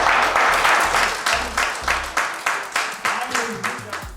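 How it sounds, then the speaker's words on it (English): An audience in a hall claps for the women present at a Miss World Nigeria pageant event, rhythmic unison clapping that fades into a steady beat while a voice speaks over it. "So I think we should give a round of applause for all the women in the house."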